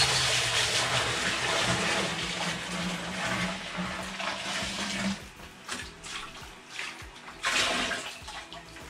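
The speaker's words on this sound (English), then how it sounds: "There we are, clean water coming through that." Water recirculating through an all-grain home brewing system during cleaning, a steady rushing, splashing flow with gurgling, which quiets partway through before surging again.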